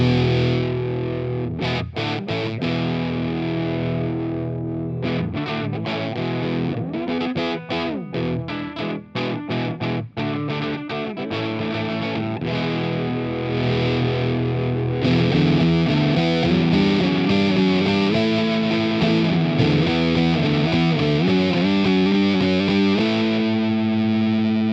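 Electric guitar driven through a Pepers Pedals Russian Doom Machine fuzz pedal with the gain rising, choppy riffing giving way to thick, crumbly sustained fuzz with a heavier low end, loud and close with no talking.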